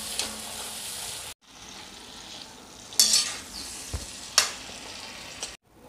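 Prawns fry in hot oil until half cooked, a continuous sizzle with sudden spatters and a few utensil clinks, near and without speech, cutting out briefly twice.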